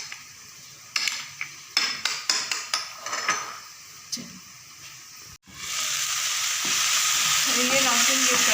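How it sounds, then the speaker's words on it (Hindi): Chicken tikka pieces for shawarma clatter in a pan with a run of sharp utensil knocks and scrapes, then a sudden loud, steady frying sizzle takes over for the last few seconds. "ये फ्राई हो चुका है हमारा चिकन टिक्का बोटी जो है, जो हमने शॉर्मे में डाला है।"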